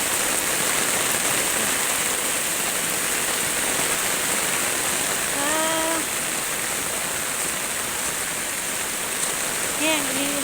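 Steady, heavy storm rain pours down in a constant broadband hiss in Laos, with a couple of brief voiced calls rising above it.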